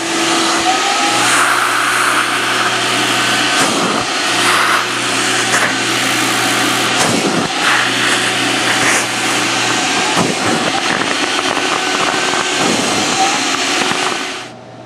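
A carpet spotting machine runs steadily on an area rug during dye touch-up work, a loud continuous motor drone with a low hum and broadband whoosh, fluctuating slightly over about fifteen seconds without speech.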